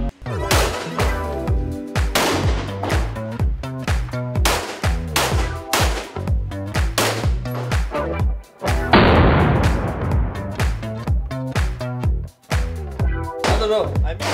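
Rapid gunfire in CS:GO, loud and close, with repeated sharp shots in quick bursts and single taps, broken by brief pauses and a short noisy burst midway.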